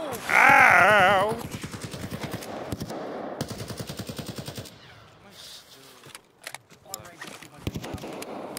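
Gunfire in the video game Escape From Tarkov: a dense burst of rapid automatic shots near the start, then scattered rhythmic noises and clicks, with shouting and talk from players mixed throughout.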